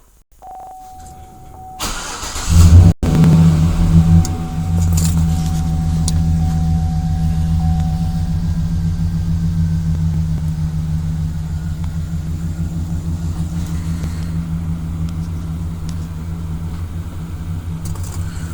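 A 2011 Chevrolet Silverado pickup engine, started by remote, cranks briefly and catches, then settles into a steady, close idle that rumbles on without any voices.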